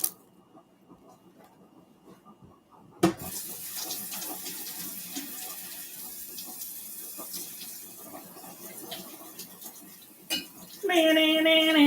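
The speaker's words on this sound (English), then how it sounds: "make sure you rinse off your veggies" After a quiet start, a kitchen tap opens and pours a steady rush of water while vegetables are rinsed beneath it, with faint clinks of dishes. A brief voice comes near the end.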